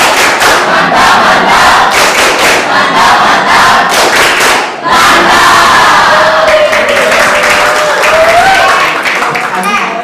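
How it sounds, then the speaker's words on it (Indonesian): A classroom of students performs the tepuk mantap clapping chant, loud group voices shouting together over rhythmic hand claps that run almost without pause, with a short break midway. "Oke, kita beri tepuk mantap dulu karena bagus."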